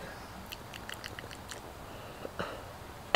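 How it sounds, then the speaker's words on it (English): A few faint, short coughs and throat sounds from smoking come in small clusters over quiet background, ending with a louder sharp burst. "I don't know why that one made me cough"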